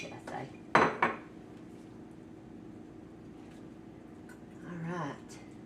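A spoon and fork clinking against dishes while cooking, with a couple of sharp metallic knocks early on, then a quiet stretch and faint rattling near the end.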